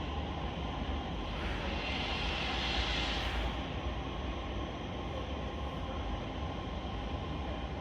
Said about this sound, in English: Off goes another Central Line.